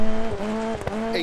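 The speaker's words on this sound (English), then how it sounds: "the sound of this car is beautiful" Rally car in DiRT Rally 2.0, engine loud and near with a steady tone, a brief dip as the revs shift, then a short tyre squeal at the end.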